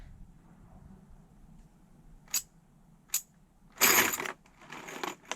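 Loose steel screws clack sharply onto a Dudley Dippers 220 Pro magnetic parts tray, a few quick separate snaps followed by a louder cluster of metallic clinks as a near box full is drawn in, close and fairly quiet otherwise.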